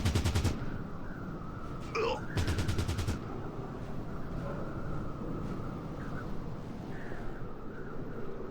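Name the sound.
gunfire in the video game Fallout Tactics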